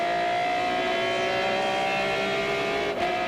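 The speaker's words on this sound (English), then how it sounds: "The BMW is still accelerating" BMW M3 GTR E46 race car accelerating at the 12 Hours of Sebring, a steady, sustained engine drone with rising harmonic tones, loud and continuous at a distance without talk.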